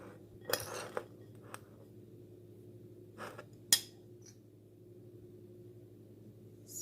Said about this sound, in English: I'm just going to fill these up